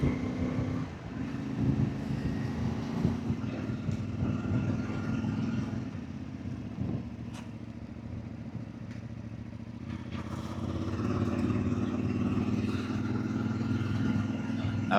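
A brand-new CFmoto 450 MT motorcycle engine drones steadily while riding on a cold February day, a continuous mid-pitched hum that rises and falls with throttle changes, with wind noise and no talk.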